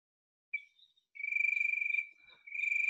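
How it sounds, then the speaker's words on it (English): Insects near the woods chirp in steady, rapid high trills, a faint opening call and then long pulsing bursts separated by short pauses, clear against an otherwise silent background. "I actually do hear crickets because I live in the woods, near the woods."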